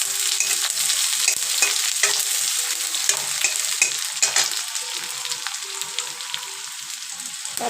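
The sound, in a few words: chopped onion and garlic frying in a pan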